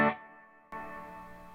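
Guitar played clean through a Peavey Bandit 112 amp with digital reverb: a chord rings and decays, then a second chord strikes and sustains with a reverberant tail, no talking.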